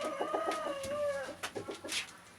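An Indian breed rooster gives a short series of throaty clucks and a brief crow-like call, fairly close, with no talking.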